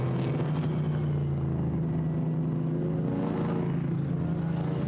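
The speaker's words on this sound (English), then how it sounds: "The rumbling engine noise of one of those 2 V8 Racing Chevrolet Camaros" A Chevrolet Camaro V8 race car, run by V8 Racing in GT4 European Series racing at Zandvoort, gives a steady, deep, continuous engine rumble that holds loud and unbroken throughout, with no voices.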